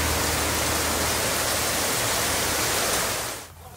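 Steady rain pours down in a dense, even hiss for over three seconds, loud and close, then quickly thins out and fades near the end. No voices are heard.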